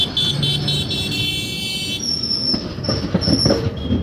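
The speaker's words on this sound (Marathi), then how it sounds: "गाडी ट्रॅक चेंज करते." A train near Vijayapura crosses points while changing tracks, with rumbling wheels, rattling wagons and a high squeal of wheels on rails, close and steady and then shifting in tone midway.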